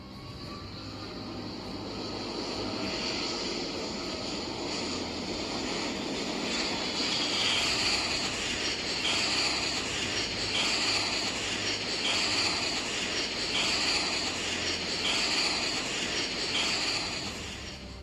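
Airplane engine droning in a video game as the plane is driven along a road, a loud continuous roar with a fluttering, pulsing texture, sustained without talking.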